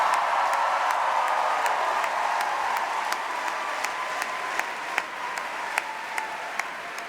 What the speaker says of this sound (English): let's give a huge round of applause for every single performer tonight.